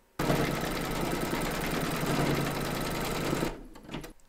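An embroidery machine stitches a quilt block with cream thread, a rapid, steady mechanical chatter running loud and close for a few seconds before stopping abruptly, followed by a couple of faint clicks.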